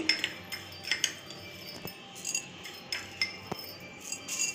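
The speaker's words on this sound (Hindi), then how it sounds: "सभी चीज़ों को अच्छे से मिक्स कर देंगे" Peppermint, supari and other gulkand mouth-freshener ingredients stirred together in a bowl, giving a steady run of light, close clinks and scrapes at an even rhythm.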